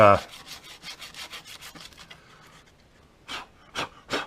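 Rapid back-and-forth scuffing strokes rough up a hard plastic surface before gluing, a quick rhythmic series followed by a pause and three slower rubs, close and distinct.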